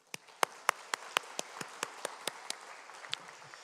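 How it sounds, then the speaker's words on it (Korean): A church congregation claps slowly in unison, about a dozen sharp, evenly spaced claps over a soft background, at moderate distance and with no talking. "박수해 주시기 바랍니다."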